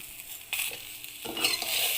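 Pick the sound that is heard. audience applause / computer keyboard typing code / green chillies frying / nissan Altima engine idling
green chillies frying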